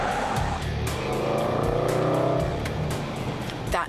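A Range Rover SUV's engine revs hard while driving, a loud, raucous roar that rises and falls close by with some tyre noise, no talking over it.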